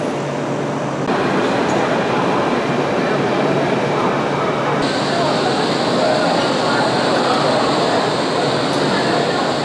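A steady, loud rumble of a metro train fills the space, with a brighter hiss joining partway through, and faint voices underneath.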